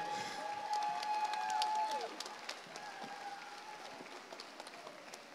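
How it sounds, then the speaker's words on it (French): Audience applause fills the closing ceremony of a Relay for Life charity event in Marche-en-Famenne, a sustained crowd clapping with a few cheers, loud at first and then gradually tapering off. "sous un tonnerre d'applaudissements"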